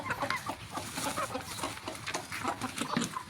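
Chickens cluck in a steady, busy chatter at close range, with many short calls overlapping.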